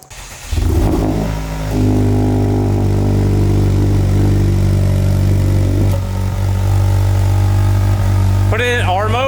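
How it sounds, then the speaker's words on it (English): Honda Civic Type R FL5 with a full turbo-back exhaust, idling with a steady low drone and a brief blip of revs near the end; close and loud throughout. "So you get a nice exhaust clip with a full 27-1 turbo back."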